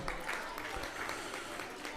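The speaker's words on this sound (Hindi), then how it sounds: "आपकी भरपूर तालियों में" Audience applause rises in a hall at an awards ceremony in Pakistan as a medal is presented, a soft, fairly distant wash of clapping heard under faint talk.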